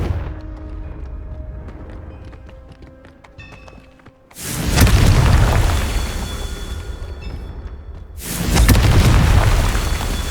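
Fiery Confringo spell blasts in Hogwarts Legacy, two heavy booming explosions a few seconds apart, each erupting loudly and rumbling down over a low background hum.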